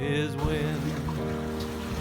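Trailer sailboat crossing the Whitsunday Passage in a 20-knot southeasterly wind, with a steady loud rush of wind and water, boat hum and sloshing, and a brief voice near the start.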